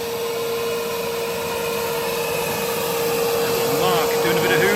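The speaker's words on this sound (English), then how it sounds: "Doing a bit of hoovering, like the drainage holes into the gas lockers." A vacuum cleaner hoovers the drainage holes into a narrowboat's gas lockers, a steady close whine with a fixed tone that grows slightly rougher and louder toward the end as the nozzle works the holes.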